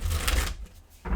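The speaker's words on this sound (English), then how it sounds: "I'm going to give it a couple more shuffles" A deck of tarot cards is shuffled twice in quick succession, each a short, close, crisp riffling burst separated by a brief pause.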